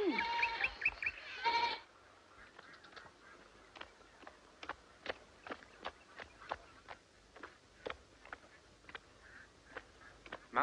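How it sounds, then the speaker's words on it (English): A goat bleats once in a short, loud burst close by, then a quieter run of regular clicks or taps follows through the remainder, with no talk. "Goat."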